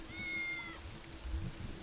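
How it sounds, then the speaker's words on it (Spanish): A cat in the video game Tales of the Neon Sea gives one drawn-out meow over a low steady background hum, followed by a faint dull knock. "El puto gato solo dice miau miau y te jode"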